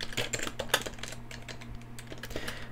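Close keystrokes on a computer keyboard tap out a short burst of quick, uneven clicks over a faint steady hum, with no talk.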